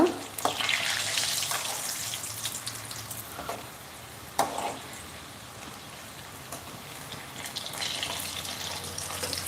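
Vegetable cutlets deep-fry in hot oil, a bubbling crackle that swells and fades with a few sharp clinks of a utensil, close and fairly quiet.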